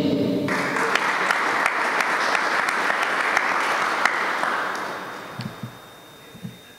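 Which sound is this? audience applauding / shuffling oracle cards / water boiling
audience applauding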